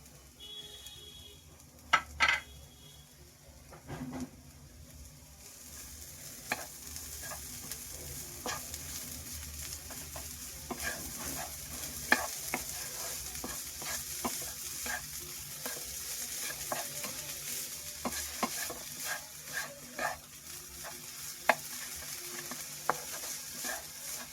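Chopped vegetables stir-fried in a pan for upma, a continuous close sizzle broken by repeated clicks and scrapes of a spatula stirring, growing fuller after the first few seconds, with no talking.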